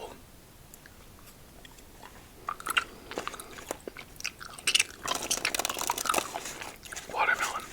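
Close, quiet chewing and crunching of Wonka gummy candies, soft sticky bites and mouth sounds building in density toward the end, with no talking.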